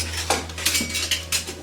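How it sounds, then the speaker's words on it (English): A slotted metal spoon scrapes and clinks against a frying pan while lifting out diced ham for a breakfast casserole, with several sharp utensil taps and a faint sizzle underneath, close and alone. "I'm just going to take it out with a slotted spoon."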